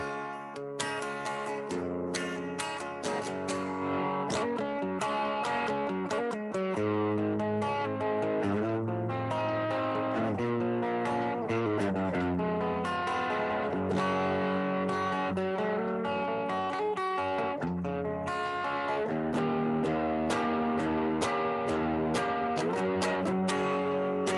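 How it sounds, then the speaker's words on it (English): Electric guitar with heavy distortion plays sustained, gritty chords and ringing notes continuously at a steady, fairly loud level. "I'm going to turn the distortion back a little bit if I want to get more notes on the chord."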